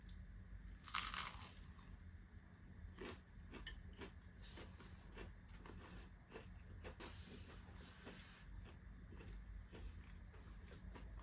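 Someone biting into a sandwich made from an odd food combination and chewing it close to the microphone, with one sharp crunchy bite followed by a series of soft, repeated chewing crunches and no talking.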